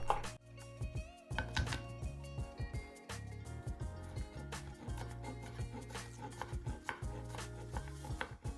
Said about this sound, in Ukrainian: Просто придавлюємо, убираємо часник подавлений і просто нарізаємо а отакі штучки.